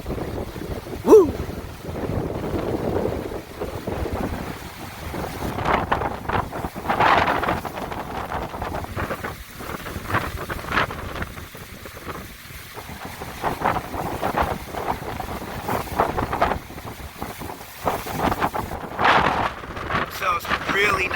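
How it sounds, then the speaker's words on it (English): Strong wind gusts buffeting the microphone on the Gulf Coast shore at Dauphin Island during Tropical Storm Cristobal, rumbling in uneven surges with surf behind them, while someone talks intermittently. "So some really nice wind gusts coming in now,"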